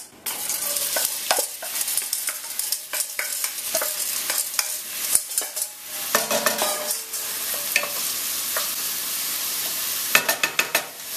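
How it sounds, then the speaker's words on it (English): Chopped onions frying in hot olive oil in a Dutch oven: a steady close sizzle and hiss with frequent stirring scrapes and clicks of the utensil against the pot, continuous throughout with no talking. "when the oil's nice and hot, we want to go ahead and add our onions."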